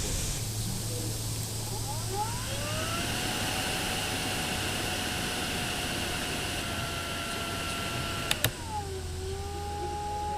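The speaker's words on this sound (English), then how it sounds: "take a listen to this sound sample between this new spinning heatsink versus a similarly sized and similar in performance fan" A Cooler Master Kinetic Cooler spinning CPU heatsink runs with a steady airy whir and thin whining tones that slide up and then hold, close and constant, with a brief click near the end.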